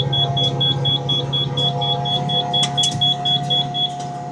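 Electronic warning beeper on a hay baler sounds a steady run of short, evenly spaced high beeps over a constant low engine drone, close and clear with no talk.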